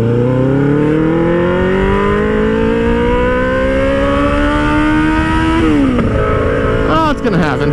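A car engine revs and accelerates on a road, its pitch rising steadily and then dropping with a gear change near the end, loud and close, with voices in the mix.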